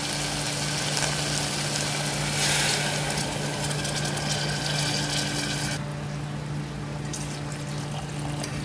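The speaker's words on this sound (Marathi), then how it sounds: "आता आपण याच्यामध्ये चिकन शिजण्यासाठी पाणी घालणार आहोत" Water is poured into a pot of cooking Maharashtrian-style chicken curry (rassa), making a continuous pouring and splashing wash over a low steady hum, with the pouring easing after a few seconds.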